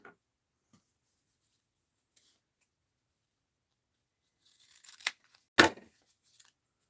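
Scissors cutting during a mixed-media paper crafting session: two quick, quiet snips close together near the end, after near silence.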